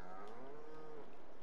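A cow moos once in the cow barn in Farming Simulator 22, a long, fairly quiet, drawn-out low call with nothing else over it.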